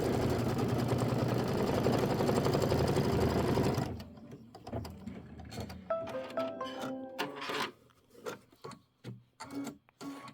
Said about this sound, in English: What we're doing is we're doing this step where it's doing the placement stitch.